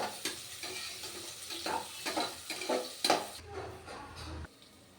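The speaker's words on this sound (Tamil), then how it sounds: "நல்லா ஆனியன் வந்து நல்லா செவந்து வரட்டும்." Onions for mutton biryani sizzle steadily in a pan while a spoon stirs them in soft repeated scrapes, close and moderately quiet, the frying cutting off near the end.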